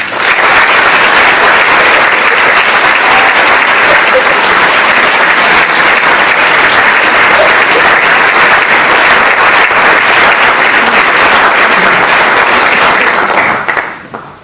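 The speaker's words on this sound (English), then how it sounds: "please join me in applauding the work of all the staff of the School of Advanced Study" Sustained, loud audience applause at a School of Advanced Study, University of London graduation ceremony in 2016, a dense wash of many hands clapping evenly throughout, then fading out at the end.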